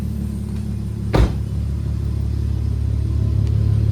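A Holden VR wagon engine cranks with a brief burst, catches and settles into a steady low idle rumble that continues close and even, with no one talking.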